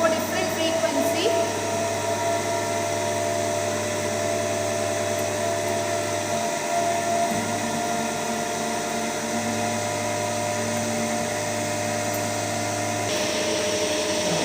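An electric motor runs steadily during a frequency test in which its field rheostat is varied, giving a loud constant whine and hum whose pitch shifts slightly midway, with talk beneath it.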